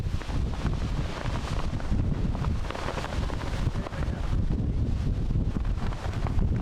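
Gusty wind buffets the microphone outdoors at a 9/11 memorial ceremony where firefighters lay wreaths. The roar is loud and rumbling and goes on without a break, with no voices heard.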